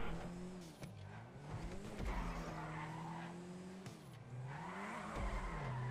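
Car drifting in the video game GTA 5, with continuous tire squeal and skidding over a revving engine that swells and dips through repeated slides, loud and close throughout.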